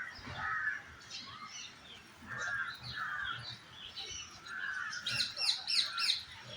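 A bird calls repeatedly in clear, raspy chirps and squawks, close by, with short pauses between phrases and a busier flurry toward the end.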